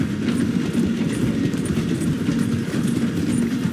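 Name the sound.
train moving in video game Red Dead Redemption 2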